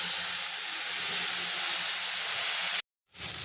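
Onions frying lightly in a pan for Bengali-style masala rice, a loud, steady hissing sizzle that cuts off abruptly near the end and then resumes, with no voices.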